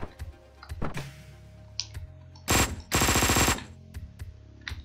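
Gunfire in the video game Hotline Miami 2, with a shotgun among the weapons: punchy single shots and two dense rapid bursts over a looping game soundtrack.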